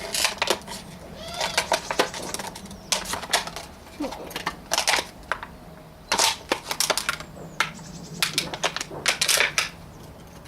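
Scissors snip and crunch through a plastic bottle while potting up onions, leeks and garlic on an allotment, giving repeated irregular cuts and crackles close by, with brief pauses between bursts.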